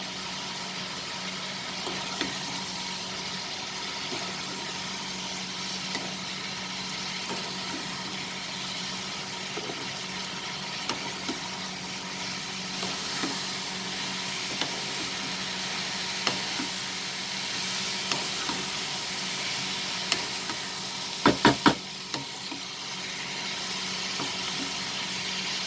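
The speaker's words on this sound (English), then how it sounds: "Now we'll mix everything together." Ivy gourd chicken sizzles steadily in a pan while being stirred, a faint, constant hiss with occasional soft scrapes and a cluster of sharper utensil clinks late on.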